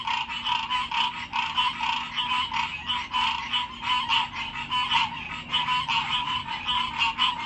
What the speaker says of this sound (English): The frogs are out.